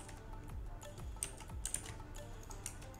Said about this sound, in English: So first we'll type our text